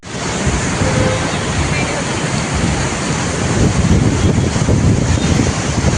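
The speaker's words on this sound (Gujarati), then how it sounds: "અત્યારે પુલ ઉપર પાણી આવી ચૂક્યું છે" Floodwater of the Shingoda river in Kodinar, swollen by four days of rain, rushes over a bridge as a loud, steady broadband roar throughout, with a little wind on the microphone.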